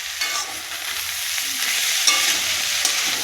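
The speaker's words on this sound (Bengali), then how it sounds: "আলু করলা সব দিয়ে ভাজা হচ্ছে" Potato, bitter gourd and gourd leaves frying together in a pan, a loud, even sizzle held throughout with occasional stirring scrapes, heard up close with no talking.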